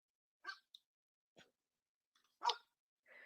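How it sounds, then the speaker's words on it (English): A pet dog barking indoors, a few short scattered yaps and woofs separated by silence, moderately close but fairly quiet. "She doesn't even usually bark, so it's funny that this happened."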